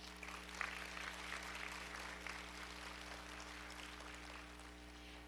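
Graduates applauding at a Fortis Institute graduation ceremony, a steady wash of many hands clapping at once with constant hall hum underneath, sustained at an even level throughout.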